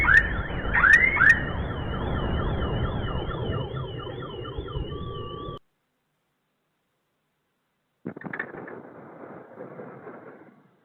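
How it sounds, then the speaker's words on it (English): A car alarm blares nearby with warbling, cycling tones for several seconds, then silence, followed by another fainter alarm-like burst. "Car alarms are going off."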